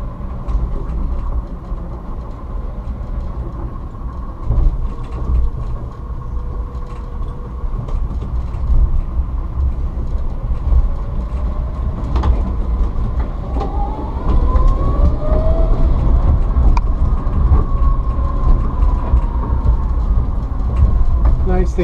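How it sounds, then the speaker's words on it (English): An electric conversion of a 23-window VW bus pulls away under throttle with a rising motor whine and rumbling road and body noise that grows steadily louder and stays close. "And then we're going to give her some throttle."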